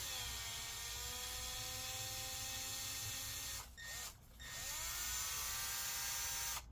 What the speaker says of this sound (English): We got the screw extractor, so we're going to go ahead and try and get this out now.